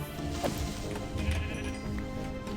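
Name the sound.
sheep bleating in the video game Minecraft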